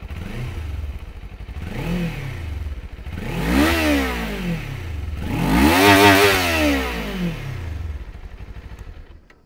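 A Kawasaki Z400 motorcycle engine idles, then revs up sharply three times in rising and falling surges, each louder than the last, before settling back to idle.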